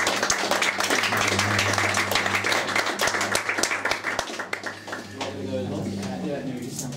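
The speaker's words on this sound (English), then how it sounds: "please come to the stage and do give Amish a clap as he comes." Audience at a live magic and music show claps for a volunteer coming onstage, a crowd of claps that fades out after about four seconds, with a low steady hum beneath and talking following.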